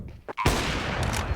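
A sniper rifle shot lands a headshot in Counter-Strike on Dust 2. A short crack cuts through, and a dense roar of gunfire and game noise follows, with a brief voice just before.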